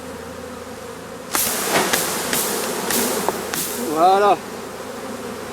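A few sharp knocks strike a branch, dropping a clustered swarm of honeybees that buzzes close and loud afterward, with a brief voice near the end.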